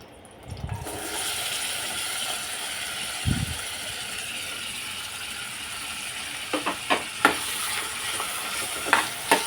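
Red and yellow bell peppers, carrot and corn stir-fry in oil in a wok, a steady sizzle broken by a few dull thumps early on and then a run of sharp spatula scrapes and clacks toward the end.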